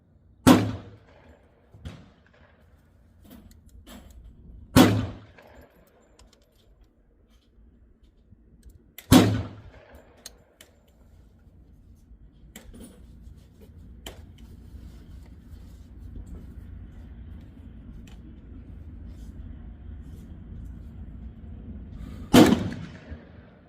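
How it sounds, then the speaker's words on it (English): Four sharp pistol shots are fired at a target 100 away. They come singly at irregular gaps of several seconds, each a loud crack, with quiet outdoor background between them. "I'm gonna do 5 at 100. Shooting dead center of the middle target"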